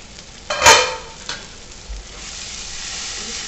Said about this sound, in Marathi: छान भाजून झालेलं आहे